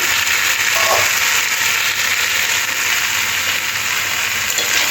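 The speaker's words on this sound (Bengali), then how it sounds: "আমরা বরবটি আর আলুটা একটু সময় দিয়ে ভালো করে লাল করে ভেজে নিতে হবে" Potatoes and yardlong beans fry in a pan with a steady, loud, dense sizzle that stays even throughout, with no talking.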